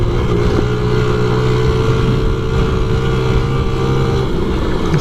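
A 1993 Honda Z50R minibike rolling along in third gear, carrying a rider's weight, its small engine giving a loud, steady, close drone with wind rushing over the microphone.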